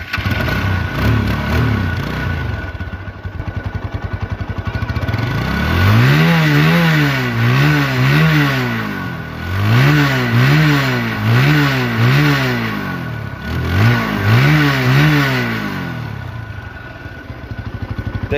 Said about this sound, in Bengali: দেখাবো বাইকটির সাউন্ড